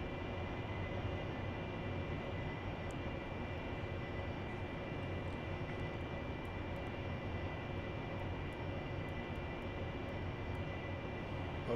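An AV-8B Harrier jet in the DCS World flight simulator roars steadily during takeoff, a loud, unbroken engine drone with a constant high whine running throughout and no voices.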